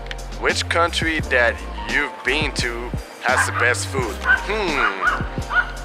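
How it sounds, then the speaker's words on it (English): A dog barks and yips repeatedly, close and loud, with whimpering notes, all layered under a person speaking. "I really apologize for the dog there barking."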